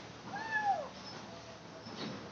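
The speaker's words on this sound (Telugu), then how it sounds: "ఇది చూడండి పిల్లి." A cat meows twice, a rising-falling mew near the start and a shorter call near the end, fairly close but soft against a quiet background.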